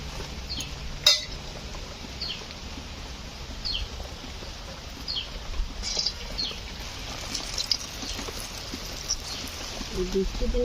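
Palm fruit pitha fry in hot oil with a continuous crackling sizzle and scattered pops, a voice faintly audible underneath.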